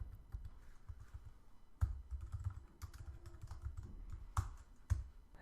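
Code typed on a computer keyboard while building an iOS food journal app, with a steady run of close, soft key taps and a few sharper louder strikes, heard on their own.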